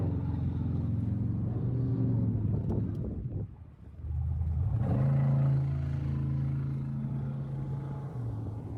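A truck's engine rumbles and revs as its wheels spin while pulling a boat trailer up a rocky river bank, dipping briefly before surging again into a sustained, strained drone.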